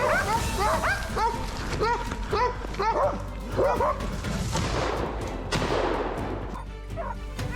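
Hunting dogs bark and yip repeatedly in an excited chorus in a forest, some whimpering, with a faint roomy echo through the trees over a steady low rumble.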